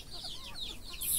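Chickens at a chicken farm clucking and chirping faintly in the background, a few soft overlapping calls over low rumbling ambience.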